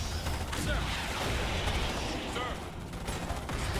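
Gunfire in the Starship Troopers video game, with dense bursts of shots and mechanical clatter forming a busy, loud wash of combat noise across the short clip.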